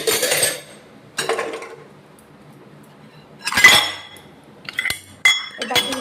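Washed dishes, bowls and spoons clinking as they are stacked and put away in a home kitchen, in three or four separate bursts of clattering with quiet gaps between, fairly close.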